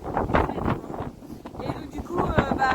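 Gusty roadside wind buffets the microphone in uneven rumbling surges, strong and close, while a voice talks intermittently underneath.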